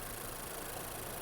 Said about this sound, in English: but that ticking sound you're hearing is the direct injection.